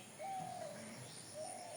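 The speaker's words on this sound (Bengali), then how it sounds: "দেখছেন ঘুঘু পাখির ডাকটা কত সুন্দর।" A dove coos in a quiet village, two soft, fairly distant calls drawn out over a faint airy background with no talk.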